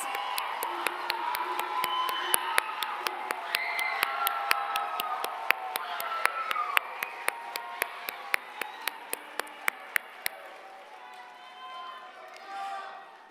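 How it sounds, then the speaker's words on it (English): Graduation convocation crowd at a college of pharmacy claps and cheers, sustained applause with a few loud individual claps standing out, fading toward the end as voices carry over. "Please give them a round of applause"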